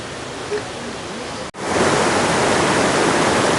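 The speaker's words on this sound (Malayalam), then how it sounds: "ഇവിടെ തൊട്ടടുത്ത് തന്നെയാണ് വാട്ടർഫാൾ ഉള്ളത് നമ്മൾ പുഴയുടെ അടുത്ത് എത്തി" Steady, loud rushing of a waterfall and flowing river fills the air in a forest, dipping briefly before surging back even fuller.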